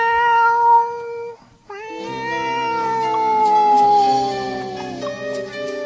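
A person imitates a cat's meow, drawing out a long, tonal mewing cry with rising and falling pitch, heard clearly and alone at close range with no talking over it.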